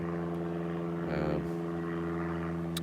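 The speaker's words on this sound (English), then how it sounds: "Got an airplane flying overhead." A propeller airplane passes overhead near the ocean, a steady droning engine hum with a brief swell in the middle, heard outdoors at moderate distance.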